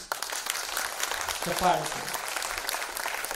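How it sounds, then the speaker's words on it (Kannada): A church congregation claps during a sermon at an Infant Jesus novena service, a steady wash of applause lasting the whole stretch with a voice briefly rising over it. "ಚಪ್ಪಾಳೆ ಕೊಡಿ."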